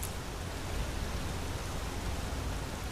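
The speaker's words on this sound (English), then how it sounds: "eaten by the side of the road in the pouring rain" Steady pouring rain in the video game Skyrim, a dense, even hiss of falling water with no gaps, close and moderately loud throughout.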